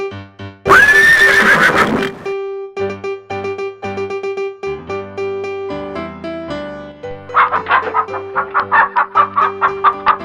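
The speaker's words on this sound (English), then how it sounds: "Horse." A cartoon horse neighs loudly in a long whinny near the start, followed by a rhythmic series of clip-clop hoofbeats and shorter neighs over a steady backing tone from a children's animal video.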